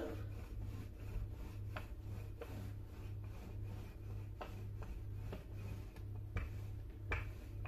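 Rolling pin pressing and rolling dough filled with poppy seed paste on a board, a quiet run of repeated rubbing, rasping strokes at a steady rhythm, close by with no talking.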